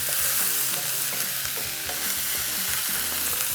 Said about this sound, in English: It just keeps the vegetables moving around in the pan until you get a really lovely sort of slight char on some of those edges.